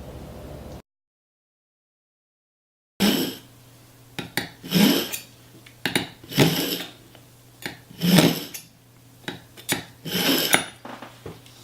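A sharp knife slicing through ripe organic tomatoes on a cutting board, a series of close, rhythmic rasping strokes with soft thuds between them, after a brief gap of silence.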